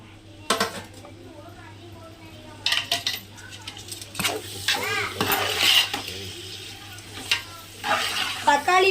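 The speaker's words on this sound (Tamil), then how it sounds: "அடுத்து தக்காளி போட போறேன் முந்நூறு கிராம் தக்காளி சன்னமா கட் பண்ணி வச்சிருக்கிறேன்" About 300 grams of finely chopped tomatoes fry in a pan for homemade biryani, with a close sizzle under repeated clattering spoon stirs and metal scrapes that come in bursts.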